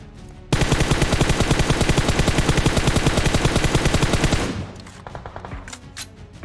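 Rapid automatic MK rifle fire in the PUBG Mobile video game, a loud sustained burst of evenly spaced shots lasting about four seconds, then fading into scattered softer game sounds.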